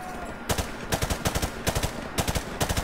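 Gunfire in the video game Modern Warfare Remastered: loud rapid automatic bursts of several shots each, separated by brief pauses.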